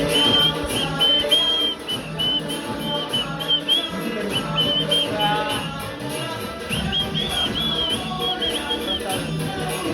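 At a Ganesh festival rally in Vizag, whistles are blown again and again in shrill bursts over a dense, loud backdrop of music and crowd noise.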